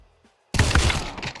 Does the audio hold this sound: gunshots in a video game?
yes